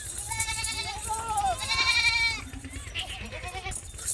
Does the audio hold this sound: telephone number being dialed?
no